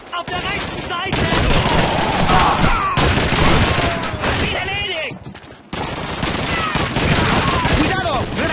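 Rapid bursts of gunfire from a World War II shooter game, Call of Duty 2, loud and dense with overlapping shots and shouted voices throughout.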